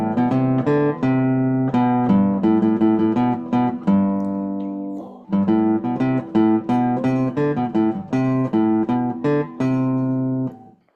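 Guitar plays a tune as steady eighth-note melody lines, with a short held chord partway through, clear and close with no talking.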